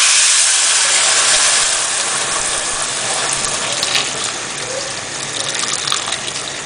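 Water gushes loudly and steadily into a cooking pot holding onion and bay leaves, a continuous close pouring rush that eases slightly toward the end.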